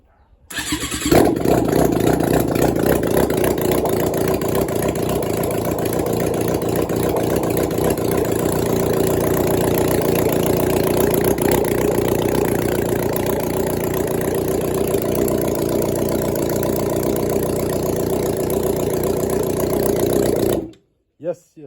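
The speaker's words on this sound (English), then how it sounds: "she starts up really easily even after the short run" A 1996 Suzuki GSX600F motorcycle engine cranks and fires right away after a carburetor and tank hookup, then settles into a loud, steady, close-up idle for about twenty seconds before cutting off.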